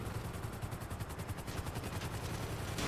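Rapid bursts of gunfire in GTA 5 Online, a dense, continuous clatter of shots with rhythmic repeated pops running throughout, loud and close with no talk over it.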